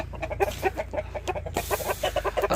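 Close, rapid clucking from a rooster blind in one eye, a run of short throaty notes repeating unevenly over a low background hum, in Rajahmundry.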